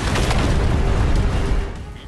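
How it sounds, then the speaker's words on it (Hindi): Rocket strikes hit Russian positions in a Ukrainian attack, heard as a continuous loud, rumbling blast roar that stays heavy and sustained for about two seconds before easing slightly. "यूक्रेन ने रूसी ठिकानों पर एक के बाद एक रॉकेट हमले किए हैं।"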